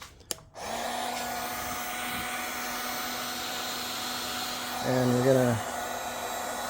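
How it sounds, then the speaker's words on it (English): A heat gun blows across the surface of a large, worn car headlight, producing a steady, loud whooshing whir with a faint tonal hum that runs almost the whole time. Someone speaks briefly near the end. "Extra step is to get a heat gun"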